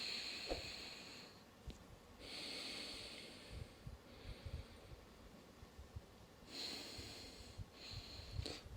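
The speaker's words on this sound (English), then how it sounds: "So completely blocking off one nostril, but then opening the breathing nostril even further." Nasal breathing through one nostril while the other is blocked and the open one is flared: a few close, hissing, snorty inhales and exhales with quiet pauses between.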